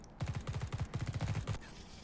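Rapid bursts of automatic gunfire in The Red Solstice, a tight volley of repeated shots lasting over a second before cutting off into quiet.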